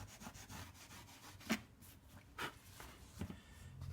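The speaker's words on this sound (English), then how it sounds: "a little piece of wire wool, and just basically wire wool around the tyre" Wire wool rubbed around the tyre of a lowrider bike being restored, a faint close scratchy rubbing with a few sharper strokes.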